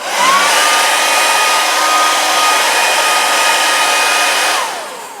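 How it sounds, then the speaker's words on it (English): A hair dryer blowing loudly and steadily up close with a whining motor tone, heating a broken fork guard, running for several seconds before switching off at the end. "I'm going to take a hairdryer and just heat it up a bit"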